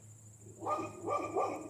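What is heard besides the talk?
dog barking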